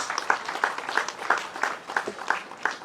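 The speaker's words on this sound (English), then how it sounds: "They deserve a resounding round of applause." Audience applause at the opening of an eye hospital, moderate and steady across the whole stretch, with individual claps standing out in a loose rhythm.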